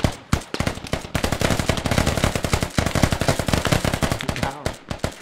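Dense automatic gunfire rattles almost without pause in a Squad multiplayer shooter match while defending a castle, rapid close bursts overlapping into a steady barrage with a few brief gaps.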